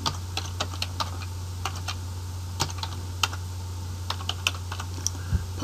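Someone types on a computer keyboard to enter data into an Excel form, producing quiet, irregular clicks of single keystrokes and short bursts, close to the microphone over a low steady hum.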